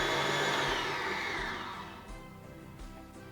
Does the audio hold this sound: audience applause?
no